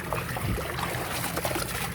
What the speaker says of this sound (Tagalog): habang lumalabas ang tubig dyan